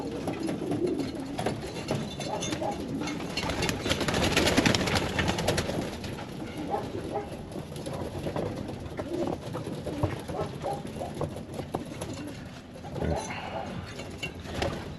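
Soft cooing of racing pigeons in an enclosed loft, with scattered rustling, shuffling and faint fluttering over a steady low background.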